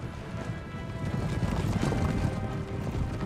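Cavalry charging across a battlefield in Empire Total War, a steady rumble of many hooves with clattering clip-clop and scattered crashes, continuous and fairly loud throughout.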